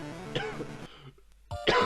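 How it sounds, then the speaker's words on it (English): A sick person coughs close up, a short harsh cough with throat clearing, a brief pause, then another loud cough. "Coughing is not fun."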